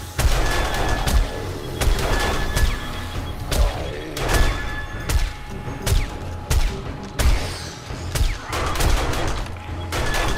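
Sniper rifle shots ring out in the game 7 Days to Die, a steady run of loud, sharp cracks roughly every second, each with a booming low tail, over a continuous rumbling background.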